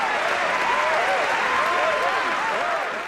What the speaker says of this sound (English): How about a round of applause for Senator Chris Murphy